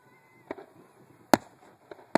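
Fireworks bursting over the Shoreline show in Mountain View, with three sharp, loud explosions spaced irregularly across a quiet background, the middle one the strongest.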